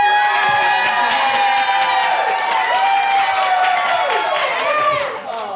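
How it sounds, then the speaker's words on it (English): A crowd at a farmers market feud game show claps and cheers together, raised voices and shouts riding over steady applause that stays loud before easing slightly at the very end. "If you thought this was the best answer, applaud now"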